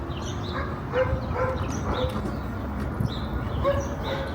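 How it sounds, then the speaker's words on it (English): A dog barks faintly in the distance, a few muffled yelps under steady wind-like outdoor noise, with birds cooing nearby. "You heard the dog barking back there."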